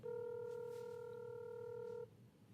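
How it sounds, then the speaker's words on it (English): A telephone ringback tone plays through a speakerphone during an outgoing call, one steady loud tone lasting about two seconds before cutting off, with no talk. "It's ringing."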